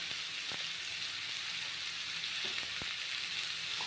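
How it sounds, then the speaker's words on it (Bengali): Malabar spinach and prawns fry in a pan after salt is added, giving a soft, even sizzle with a few faint ticks and pops, close and alone. "তো এটা একটু ভাজা হোক, নুনটা দিয়ে দিই।"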